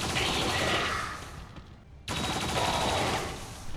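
Turret fire in the video game XCOM 2: a sustained burst of rapid automatic shots, then a short lull, then a second sharp burst of loud rattling gunfire.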